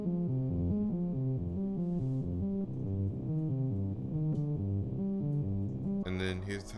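Synth melody pitched up an octave and run through EQ, Sketch Cassette, Valhalla and MicroShift effects, a wobbly, tape-warped sequence of rising and falling notes, steady and loud, with no voices, closing on a brief noisy burst.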